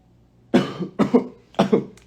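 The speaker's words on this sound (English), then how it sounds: "That's a cough." Three quick coughs in a row, each a short double burst, close and moderately loud, with silence before and a faint trailing breath after.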